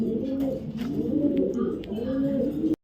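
A flock of racing pigeons, including a ringed male racer, keeps up a steady, throaty cooing in repeated swelling waves close by, with faint clicks and rustles before it cuts off abruptly.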